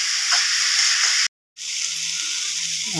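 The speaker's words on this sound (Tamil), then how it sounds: "காய்கறியெல்லாம் போட்டு நல்லா அடுப்பு ஹை ஃப்ளேமில் வச்சு நல்லா அஞ்சு நிமிஷம் நல்லா வதக்கிட்டேன்" Mixed vegetables stir-fry for vegetable fried rice in a pan over a high flame, giving a loud, close, continuous sizzle that cuts out briefly and then resumes.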